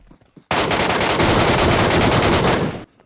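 Sustained burst of MK machine-gun fire in the BGMI mobile battle game, a dense, loud, continuous rattle of rapid shots lasting over two seconds before cutting off abruptly.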